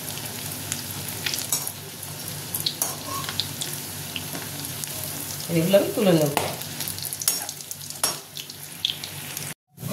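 Poa fingers fry in hot oil in a home kitchen, a steady soft sizzle running throughout with a brief burst of bubbling midway and a short spoken remark.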